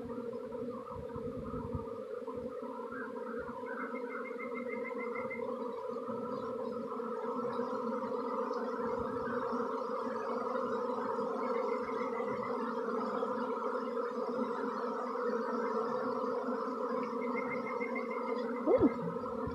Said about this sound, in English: The honeybees are swarming.